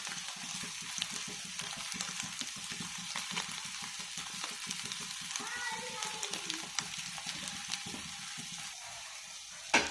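Egg and vegetables fry in a pan for pasta, giving a steady crackling sizzle with frequent stirring and scraping strokes up close and a brief louder knock at the end.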